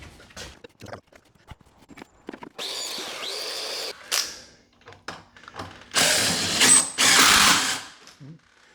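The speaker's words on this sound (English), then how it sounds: "I'm getting ready to screw them in place." A power drill drives screws through wooden filler blocks into a wall during cabinet installation, with short whirring bursts and pauses between them. The bursts grow longer and louder near the end.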